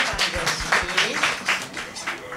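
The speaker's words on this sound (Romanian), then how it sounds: "S-o aplaudăm!" Audience applause greeting schoolteacher Mariana Cârstea as she comes forward at a children-and-parents school event, a moderate patter of claps with uneven bursts over a couple of seconds.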